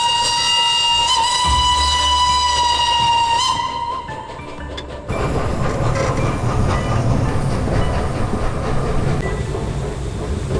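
A loud steam whistle sounds, then a narrow-gauge mountain train rumbles along snowy rails in Romania with steady clattering and hiss, close and continuous.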